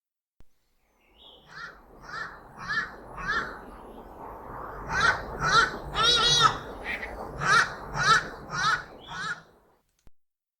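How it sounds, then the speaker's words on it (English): A series of harsh, croaking ibis calls, repeated in a rough rhythm and building in loudness before tapering off, heard clearly with no talk. "So this is what that bird sounds like."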